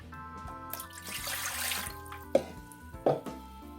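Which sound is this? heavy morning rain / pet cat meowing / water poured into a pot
water poured into a pot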